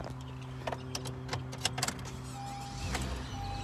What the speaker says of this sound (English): Bust those windows down remotely.